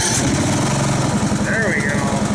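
Chevrolet Camaro engine running choked and uneven just after starting, a loud close rumble with a pulsing rhythm throughout the short stretch.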